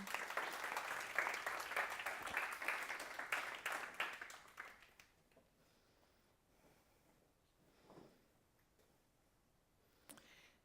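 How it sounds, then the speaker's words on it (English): A burst of applause and clapping from a crowd for about five seconds, fading out into quiet with a couple of faint knocks afterward. "Round of applause for our amazing women."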